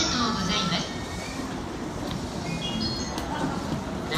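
A JR E233 series Negishi Line local train rolls into Yokohama station, its low rumble and rail noise steady and moderate, with faint station sounds and high squeals near the platform.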